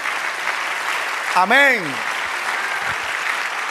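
A church congregation applauds in a sustained wash of clapping, and a single voice calls out briefly over it in Spanish.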